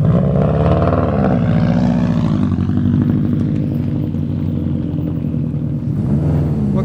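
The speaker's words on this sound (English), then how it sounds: "Yeah, it's a loud fuel pump." A Subaru WRX STI Super Production rally car on a rally stage, with its loud fuel pump: a strong, continuous droning whine with rich harmonics that wavers in pitch and eases briefly before rising again.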